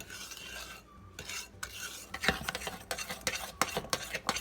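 Spoon stirring salt into chocolate chip cookie ingredients in a bowl, a run of scraping, clinking strokes with sharper knocks against the bowl, close and alone.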